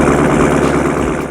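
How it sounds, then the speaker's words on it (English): A Corvette fitted with a Corsa exhaust idles close by, giving a deep, loud, steady rumble with a slight pulsing throb for a brief moment. "it has a Corsa exhaust and sounds amazing"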